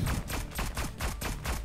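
Bombs exploding in the video game Neon Abyss, a rapid string of loud, close booming blasts in a steady rhythm over a short burst, with no talking.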